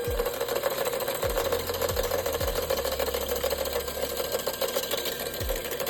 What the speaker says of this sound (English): I will use the family cake mixer to whisk.